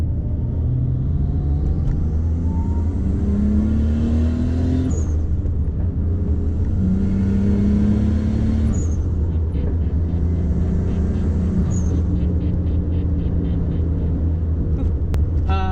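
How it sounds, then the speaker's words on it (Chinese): Nissan Skyline ER34 with a Nismo clutch accelerating hard, a loud steady engine roar rising through the gears with brief breaks at each shift, heard from inside the cabin. "好了，我们就来试一点基本的加速看看。"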